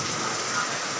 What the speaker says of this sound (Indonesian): Ini hujannya sangat deras sekali guys.